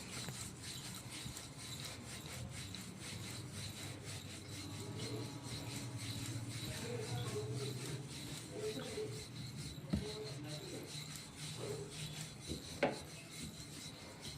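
A rolling pin repeatedly rasps over flatbread dough on a board at home, a steady rubbing and scraping rhythm continuing throughout with a couple of sharper knocks, close but fairly quiet.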